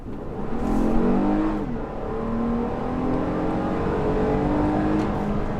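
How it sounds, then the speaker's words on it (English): A 2020 Toyota Highlander XLE pulls away from a U-turn, its engine note rising through the gears in a steady, moderately loud interior drone with rising pitch sweeps and a brief shift dip. "I want to show you guys just a little bit of acceleration"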